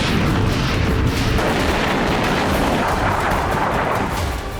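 Missile strikes on power plants and the power grid in Ukraine, heard as a dense, continuous rumble of booms and blasts with crackling bursts layered over a heavy low roar, loud and sustained with no talking.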